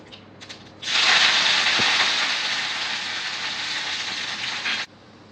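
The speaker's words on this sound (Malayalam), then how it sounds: "ഇനി കടുക് വറുക്കാം. കുറച്ച് വെളിച്ചെണ്ണ ഒഴിക്കാം." A loud, steady sizzle starts abruptly, hisses continuously for about four seconds, then cuts off, like mustard seeds popping in hot coconut oil.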